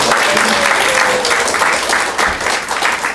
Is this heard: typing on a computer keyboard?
no